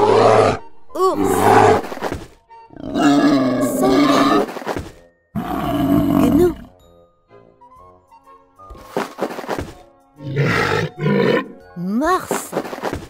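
A cartoon bear lets out several loud, deep grunts and drawn-out roars in a preschool animal game, the bursts spaced across the clip with short silent gaps between them.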